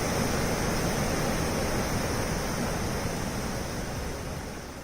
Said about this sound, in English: You can see there's a waterfall right there.